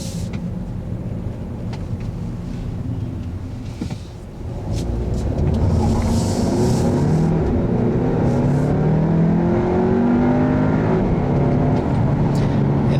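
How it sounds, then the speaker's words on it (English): A 2015 Audi A3 2.0T Quattro with its 2-liter gasoline engine and all-wheel drive, heard from inside while driving: a steady hum at first, then the engine note climbs and holds loud as the car accelerates. "today I'm driving the Quattro all-wheel drive 2-liter gasoline engine"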